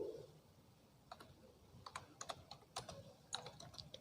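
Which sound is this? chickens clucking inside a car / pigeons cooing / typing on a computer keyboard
typing on a computer keyboard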